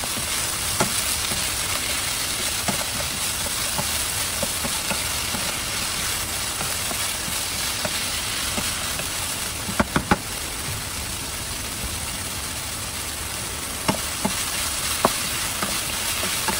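Pancit canton with broccoli and carrots is stir-fried in a pan, giving a continuous busy sizzle with scattered sharp clicks and taps of the utensil against the pan.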